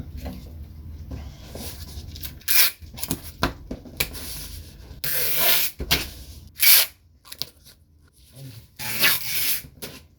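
Cardboard box flaps folded down one after another while packing a guitar for shipping, giving close, dry rubbing and scraping bursts with brief pauses between them.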